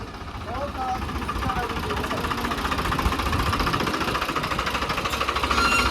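A tractor engine runs outdoors in a village, a steady, loud, rumbling drone with a rhythmic knock that holds throughout, with voices mixed in.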